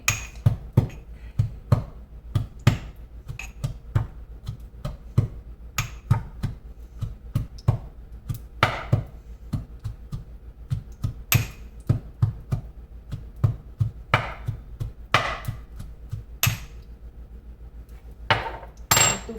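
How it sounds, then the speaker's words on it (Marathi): Garlic being crushed, likely pounded in a mortar while ghee heats for a traditional black chana kadha. Sharp, steady wooden thumps and taps repeat for the whole stretch, close and clear, with no talking. "लसूण हवं तर तुम्ही तूप तापेपर्यंत अजूनही ठेचू शकता"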